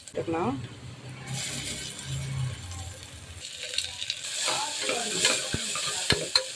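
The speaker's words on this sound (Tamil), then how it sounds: "இதில் நம்ம இஞ்சி பூண்டு பேஸ்ட்டு போட்டுக்கலாம்." Ginger garlic paste frying with softened onions in a pan for a home-cooked beetroot biriyani, with a soft sizzle and stirring scrapes. A voice briefly speaks near the start, then sharp utensil clicks and taps come toward the end.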